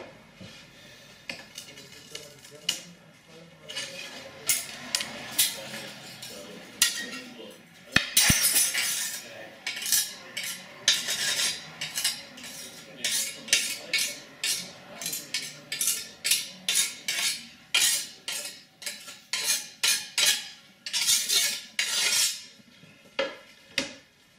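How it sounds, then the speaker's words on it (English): Hand cutting and handling of stained glass pieces for church windows, a run of sharp clinks, taps and glassy chinks, close and clear, with a few brief murmurs of voice in the background. "The glass is cut to fit the template"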